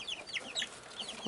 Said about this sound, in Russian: Вот там цыпленок стоит на жердочке.